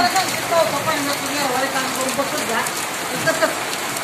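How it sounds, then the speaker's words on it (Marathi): Steady rain patters on a surface, a dense continuous hiss with scattered drop sounds, fairly close and unbroken throughout. "बघ पाऊस येते या पाऊस"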